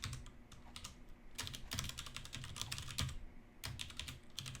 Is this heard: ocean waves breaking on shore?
no